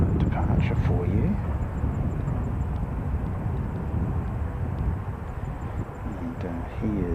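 A departing airliner at a plane spotting session gives a broad, steady roar with wind buffeting, loud and fairly near throughout, while a voice talks over it.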